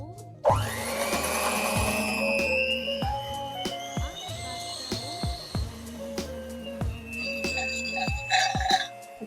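A thrift-store kitchen stand mixer starts up with a rising whine and then keeps running with a steady motor hum. Repeated clinks and knocks of the beaters against the bowl punctuate it, and there is no talking.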